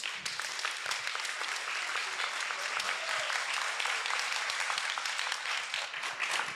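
An audience at a political debate on Armenia's system of government applauds a participant with steady, rapid clapping, heard faint and somewhat distant but continuous throughout.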